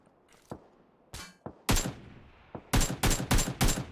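Gunfire in the shooter game PUBG Lite: scattered single shots, then a run of loud, evenly spaced bursts of rapid fire close up, with no talking over them.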